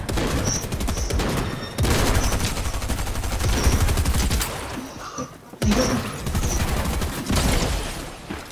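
Dense gunfire in a video game shooting match, with rapid bursts and overlapping shots running almost continuously, loud and close, broken by one brief pause.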